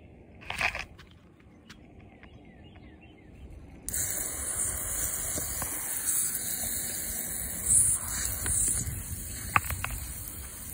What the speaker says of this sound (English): It's a pretty good intense spray we're giving them.